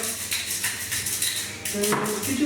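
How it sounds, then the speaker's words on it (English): Four eggs for an omelette being whisked in a bowl, heard as a rapid, steady clatter of utensil against the bowl, close and moderately loud throughout the short stretch. "I've put 4 eggs, and I mean 4 eggs in here, which I'm going to whisk."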